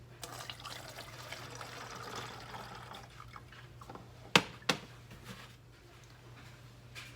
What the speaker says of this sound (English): we're going to use a funnel, and all you'll do is add 1 cup of water